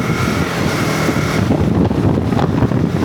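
A KTM Adventure 250 motorcycle rides along a highway, its engine drone blended with heavy roaring wind buffeting the microphone, loud and continuous with no talking.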